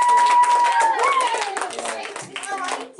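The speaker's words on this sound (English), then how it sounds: "Round of applause for his answer." A small group claps briefly at a candidate event, the clapping mixed with overlapping voices and someone talking, fading toward the end.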